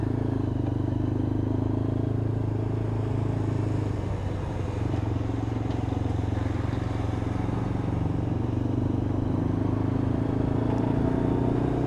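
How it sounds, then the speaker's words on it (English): A Lexmoto LXR motorcycle pulling out into traffic, its engine a steady low droning hum close to the rider with wind rush and road clatter layered over it, holding an even pitch throughout. "So we're just going to move out into the traffic and get some mileage on this bike."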